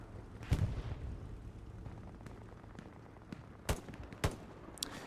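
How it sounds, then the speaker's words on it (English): Incoming artillery rounds in the World War II shooter Hell Let Loose on the Stalingrad map: a heavy blast early on, then two more sharp booms near the end over a low rumbling battlefield bed, with no talking. "The arty round comes in."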